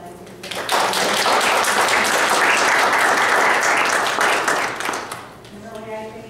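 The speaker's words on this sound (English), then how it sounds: "if you would join me in a round of applause" An audience at a school district community levy meeting breaks into loud, dense applause that swells quickly, holds steady, then thins out as a voice resumes near the end.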